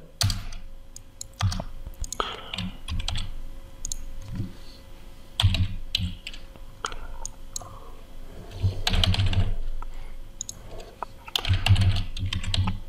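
Server details are typed on a computer keyboard in rapid, close bursts of key clicks with short pauses between them. No one speaks.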